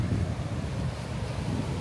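Wind buffets the microphone at a beach in Maui, Hawaii, a steady, loud, low roar with ocean surf washing in beneath it.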